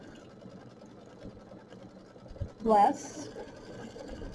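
A sewing machine stitching a quilt block runs in one brief, close burst of whirring, while someone talks quietly before and after it.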